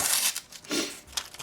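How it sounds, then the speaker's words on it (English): A freshly convex-sharpened Bark River Gunny Hunter knife push cuts phone book paper, giving close crinkling and crisp slicing rasps in several short bursts. "I believe I got this thing to push cut phone book paper"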